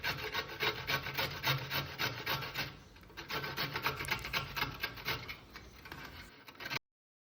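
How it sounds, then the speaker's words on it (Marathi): Carrots being grated by hand for carrot halwa, a steady rhythmic rasping scrape with repeated strokes, close and fairly loud, with a short pause midway before the grating resumes. "ते सर्व गाजर एकदा किसून घ्यायचे"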